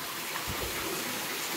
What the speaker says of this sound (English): splash some water on that